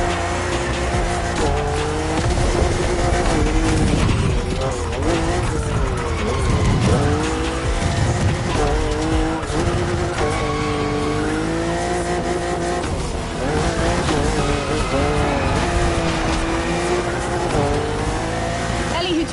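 A BMW M4 drift car in The Crew Motorfest, revving hard with long tire squeals and skids, engine pitch sweeping up and down continuously, loud and close, with a voice talking over the racing.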